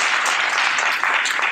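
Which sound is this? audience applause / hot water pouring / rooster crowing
audience applause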